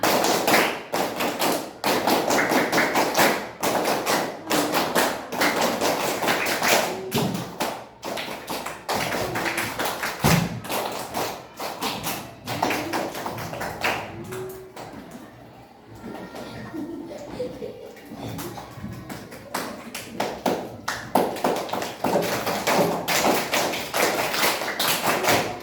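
A third-grade Indonesian class performs the Pancasila rhythmic clapping chant, dense, steady clapping and taps running continuously with chanting voices, loud and close, briefly softening in the middle.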